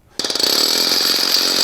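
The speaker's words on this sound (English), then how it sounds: "It's a jackhammer." A loud, harsh mechanical racket like a jackhammer starts suddenly after a brief silence, with rapid pulsing blows settling into a continuous buzzing roar.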